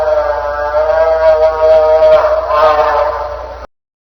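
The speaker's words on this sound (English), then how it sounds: "moose" Moose call: a long, steady, nasal tonal moan held for over three seconds, loud and close over a low constant hum, cutting off abruptly.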